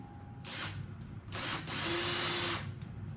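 A power drill whirs in two short bursts drilling a pilot hole in a Harbor Freight mini mill CNC Z-axis part, the second burst longer and steadier, close by with little else around it.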